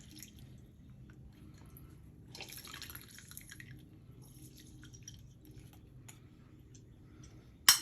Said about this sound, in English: I love the sound that the juice makes as it's dropping into the bowl.